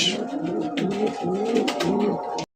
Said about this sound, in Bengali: বন্ধুরা এখানে হচ্ছে আরো একটা ব্লু শর্টিন কবুতরের কালেকশন দেখতেই পাচ্ছেন